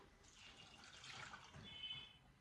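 Water being poured into a pot for a home cough remedy, a soft continuous splashing trickle lasting a couple of seconds, fairly faint and close, with no talk over it.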